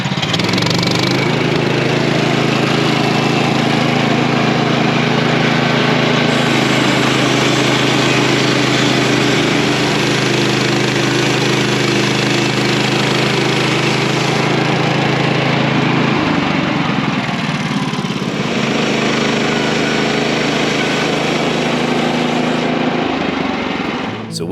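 A Kubota BX compact tractor working to move 1400 lb logs, its small engine droning loud and steady throughout with slight shifts in pitch as the load and throttle change, no voices.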